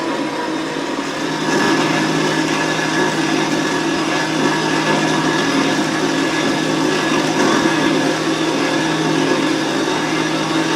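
Continuous grinding whine of a power tool cutting through thick steel square tubing, steady and loud for the whole stretch with no talking.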